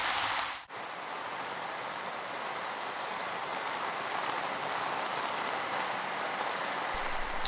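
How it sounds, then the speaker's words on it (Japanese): Heavy simulated rain, about 60 mm per hour, drums steadily on an umbrella in a disaster-prevention rain experience: a dense, constant hiss of close drops that stays loud and unbroken throughout. "さあ雨が降り出しました、結構ですね、雨粒がしっかりと、傘に打ち付けています。"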